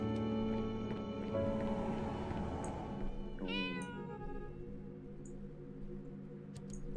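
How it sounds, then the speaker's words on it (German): A cat in the video game Cats and the Other Lives meows in a long, drawn-out cry, then gives a rising second meow, over a steady musical and ambient game background. "Und Katze ist hungrig"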